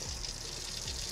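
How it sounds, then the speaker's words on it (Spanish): Water runs steadily from a camper van tap, a continuous soft hiss and splash with no interruptions. "Ahora vamos a probar el grifo a ver qué tal funciona."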